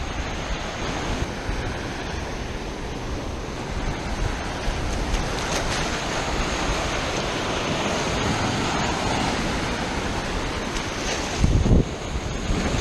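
Ocean surf rolls and washes continuously onto a sandy beach, a steady broad rush with wind buffeting the microphone and a brief thump near the end.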